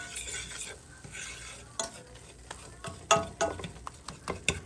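A fork mashes and stirs a butter and flour roux in a pan for cheesy potatoes, giving repeated irregular scrapes and clicks of metal over a low sizzle, close and fairly loud.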